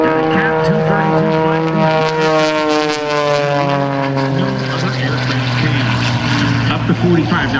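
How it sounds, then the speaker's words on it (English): French-built CAP232 aerobatic propeller plane with redesigned wing performing at an airshow, a loud sustained engine drone whose pitch slides and shifts as it maneuvers, with a commentator talking over it. "Watch him roll the airplane now."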